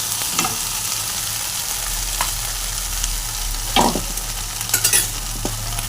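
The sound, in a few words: stirring and mixing vegetable curry in pan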